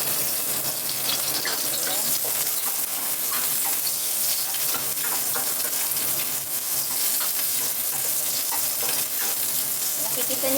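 Shallots sizzling in hot oil in a pan, a dense continuous frying hiss with occasional scraping stirs, close and steady, a voice faintly in the background.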